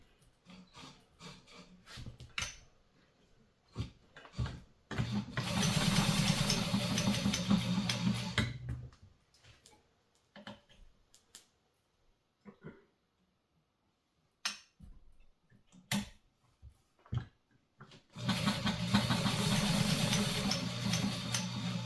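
A Brother 1350 sewing machine stitches leather with a long stitch length, giving two sustained mechanical whirring runs. Each run is several seconds long and comes between quieter handling clicks and pauses.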